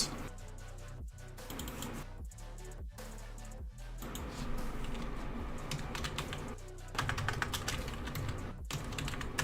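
Keys clatter in quick bursts on a computer keyboard during work in a game editor, fairly close and steady, broken by brief pauses, with no speech.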